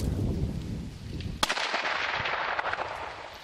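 A rifle shot cracks out at a bull on a trophy hunt in Namibia: one loud, sharp report, then a long echo rolling away over open ground.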